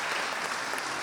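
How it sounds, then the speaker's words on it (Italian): Applause from an audience at a Sardinian folk dance show, a dense, steady burst of clapping heard up close with no voices over it. "Fate applausi belli"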